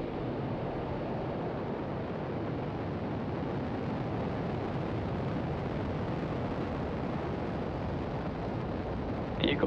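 Rocket engine roaring at liftoff, a dense, sustained rumble held steady and loud for the full ten seconds with no break.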